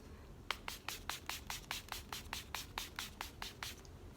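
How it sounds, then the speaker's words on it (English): Milani Make It Last Matte Finish setting spray fires about fourteen quick, crisp spritzes in a steady, even rhythm, close up and with no talking. "now I'm going to set my face with the Milani Make It Last Matte Finish Spray"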